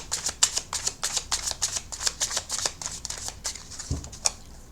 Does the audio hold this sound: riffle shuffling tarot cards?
yes